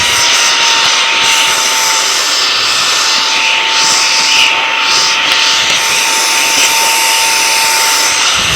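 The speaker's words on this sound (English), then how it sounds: "So what I'm just going to do is I'm just gonna quickly vacuum it." A vacuum cleaner runs on a second-hand Gucci luxury bag to remove loose dust, a loud, close, steady whine with an even roar that holds without break throughout.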